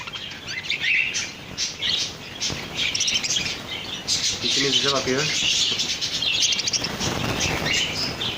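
Pet birds chirp and tweet inside a large free-standing aviary cage, with a mated pair busy with each other; bright, busy calls run throughout close by, with brief wing flutters and a person talking over them.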